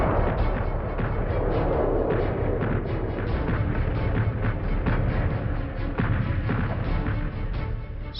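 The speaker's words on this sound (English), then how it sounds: "the eerie calm in the Allied trenches was broken by the heaviest bombardment of the entire First World War" Massed World War I artillery bombardment on the Western Front in 1918, thousands of guns firing along the front: a dense, continuous rumble of overlapping booms and crashes, steady and loud throughout with no talk.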